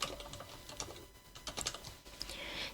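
Quiet, irregular clicking of keys on a computer keyboard during text entry into a PowerPoint slide, a quick run of close, soft taps with brief pauses between bursts.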